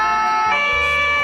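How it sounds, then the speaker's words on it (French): An ambulance siren wails loud and close, its tone shifting pitch partway through, over a low engine rumble. "on met une sirène qui est très très très forte"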